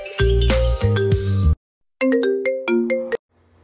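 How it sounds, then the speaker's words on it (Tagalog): A phone ringtone converted from MP4 to MP3 plays loud and clear, a bright electronic melody in two bursts of quick stepped notes separated by a short silence, with no voices. "So pwede na natin siyang gawing ringtone."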